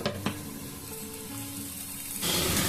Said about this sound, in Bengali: তবে আমি অন্তত হাই ফ্লেমে একদম 5 মিনিট এটাকে ভেজে নেব